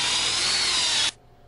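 A power drill whines loudly and steadily while boring into a wooden barn post, then cuts off abruptly, leaving a faint quiet tail.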